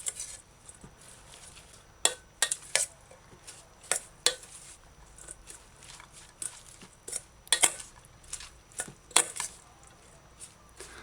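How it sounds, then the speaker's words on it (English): A cooking spoon stirs a bowl of shredded vegetable salad for a Jamaican dinner side dish, giving sparse, scraping clinks and soft rustles that come in irregular bursts, close and fairly quiet, with no talking. "get a spoon, a cooking spoon, and stir your vegetable in properly"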